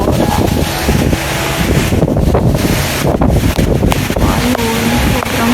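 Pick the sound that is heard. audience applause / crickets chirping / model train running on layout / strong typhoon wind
strong typhoon wind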